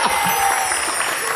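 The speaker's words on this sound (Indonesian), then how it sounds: "tepuk tangan dong buat Maya dulu." Brief burst of studio audience applause on an Indonesian TV game show, steady clapping lasting about a second.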